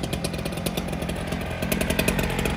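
Husqvarna gasoline cut-off saw cutting paving stones in a patio, a loud continuous close engine roar with gritty pulsing throughout, no talking.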